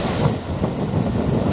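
Wind buffeting a microphone fitted with a foam rubber windshield on a windy December day: a steady, loud, low rumble with gusty swells, no voices.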